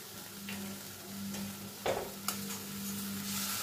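Salt and turmeric fry in a pan for a paneer kofta curry, giving a steady close sizzle broken by a couple of sharper scrapes and clacks as a spoon stirs. No one speaks.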